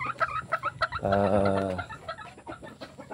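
Super Sweater and Red Kelso gamefowl clucking nearby, with one rooster letting out a loud crow in the middle among scattered short calls.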